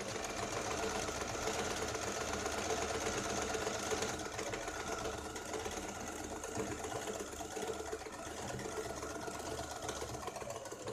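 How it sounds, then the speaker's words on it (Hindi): A sewing machine runs a double line of stitching on a katori blouse, a steady, fast mechanical whir and rapid needle clatter continuing evenly for about eleven seconds, moderately quiet, with no speech. "यहाँ पे हम डबल सिलाई लगा रहे हैं"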